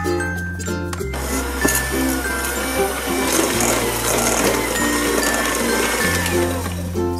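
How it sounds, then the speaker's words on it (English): An electric hand mixer beats butter in a bowl for a chocolate flan cake, giving a steady motor whir that shifts pitch a few times as the speed changes, with clinking against the bowl. "First we beat the butter with a hand mixer."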